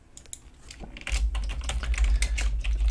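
Quick, close clatter of keys on a computer keyboard as a slide layout is renamed, a dense run of taps growing busier after the first second.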